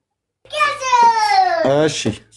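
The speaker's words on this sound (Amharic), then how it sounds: "ከልጆቼ ጋር ሆኜ ጫጫታም ስላለ ነው ሚውት የማደርገው።" A child at home lets out one loud, drawn-out, sing-song cry that rises and falls for about two seconds, close to the microphone.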